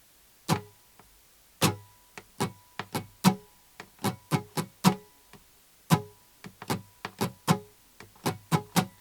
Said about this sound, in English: we're going to keep a common strum pattern through just about the whole song